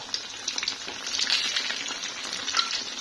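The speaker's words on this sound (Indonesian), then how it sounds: "Goreng nugget" Frozen nuggets frying in hot oil give a steady, close crackling sizzle with irregular pops throughout, heard alone without talk.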